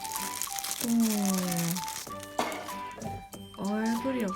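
Plastic crinkles and rustles in bursts while a person talks over it, close to the listener.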